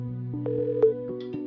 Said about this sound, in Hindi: अपना फोन निकालकर एक नंबर डायल किया